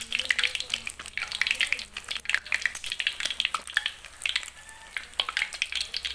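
Eggs fry in a pan with a steady loud sizzle and crackle, broken by spatters and stirring scrapes throughout.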